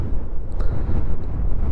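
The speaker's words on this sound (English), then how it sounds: "Wow, it is super windy over here." Strong gusts buffet the microphone on a hilltop trail, a loud, uneven low rumble with a few faint higher ticks and squeaks and no speech.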